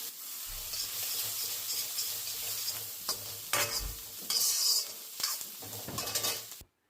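Chopped vegetables sizzle in hot oil while being stirred with a spatula, with occasional scrapes and clinks against the pan. The frying hiss runs continuously and is fairly quiet, with no talking.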